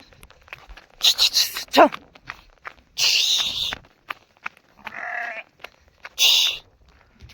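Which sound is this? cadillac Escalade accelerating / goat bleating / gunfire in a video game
goat bleating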